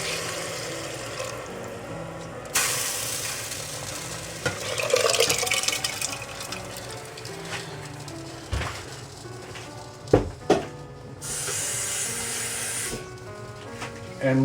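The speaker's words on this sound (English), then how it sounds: "Okay, so now I'll add the lentils." Soaked moong and masoor lentils tumble into a pressure cooker in a home kitchen, with intermittent pouring, hissing and clattering rustles, some sharper knocks against the pot, and a voice talking over parts of it.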